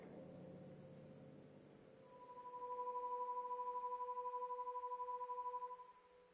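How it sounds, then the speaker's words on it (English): A pure 500-cycle sine tone hums steadily, then its second harmonic joins partway through, adding a brighter, higher layer to the faint, even tone. "To this fundamental, we will now add the second harmonic."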